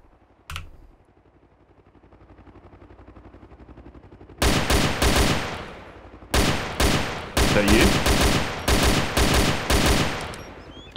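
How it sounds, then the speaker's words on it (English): Gunfire in the DayZ Overpoch mod: a single early crack, then from about four seconds a run of loud, closely spaced bursts of shots with short gaps between them, no talk over it. "Yeah, I'm shooting at him."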